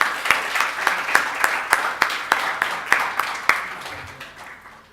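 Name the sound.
audience applause for committee helpers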